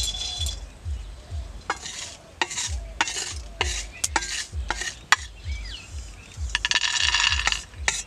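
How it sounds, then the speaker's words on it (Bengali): Whole peanuts fry in a wok while a spatula stirs them in regular scraping strokes, about one every half second, each with a metallic clink. A soft sizzle runs underneath and grows busier toward the end, and there is no talking. "বাদামটা একটু লাল লাল করে ভাজতে হবে।"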